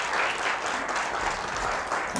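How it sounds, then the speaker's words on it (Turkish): A studio audience claps warmly for a veteran television presenter, a dense, even burst of applause sustained throughout at close range. "Alkışlayın lütfen."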